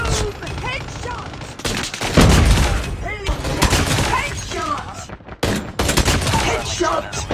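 Pistol headshot gunfire in a Call of Duty match: rapid, loud shots and impacts in bursts, mixed with game sound effects and an announcer voice calling out hits.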